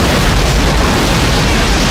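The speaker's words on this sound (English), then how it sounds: "And that's a big explosion." A huge explosion from the disaster film Volcano roars as a loud, dense wall of broadband rumble that holds steady for two seconds.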